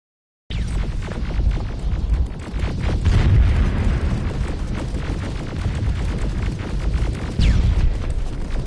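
A rocket explodes in the Terminator Resistance video game with a sudden, loud blast that rolls into a long, deep, rumbling roar and lingering low booms.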